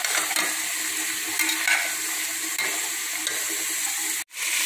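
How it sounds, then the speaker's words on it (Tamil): Mixed vegetables sautéing in hot oil for sambar rice, a steady loud close sizzle with crackling spatter and occasional stirring scrapes, continuous until a brief cut near the end, with no voices. "எல்லா காயும் நல்லா எண்ணெயிலேயே வதக்கிக்கலாம்."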